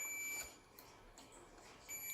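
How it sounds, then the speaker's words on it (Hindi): A multimeter's continuity buzzer beeps in short high tones while a shorted diode from a dead power supply is tested, faint bursts at the start and again near the end over a quiet background. "बजर दोनों तरफ से बज रही है"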